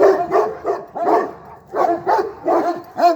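A dog barks repeatedly nearby, a series of loud, rhythmic woofs with short pauses between them, some higher and whiny.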